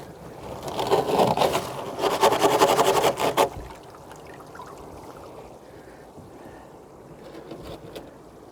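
Foam filter matting from a koi pond is shaken hard in the water for about three seconds, giving loud sloshing and splashing bursts that then settle into a softer, steady trickle.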